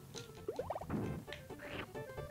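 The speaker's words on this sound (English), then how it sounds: "There's so many birds. They're all in the background, dude." Cartoonish bird calls from the Yoshi's Island video game chirp and warble in short, pitched bursts, a few overlapping squawks rising and falling at moderate loudness against steady game sound.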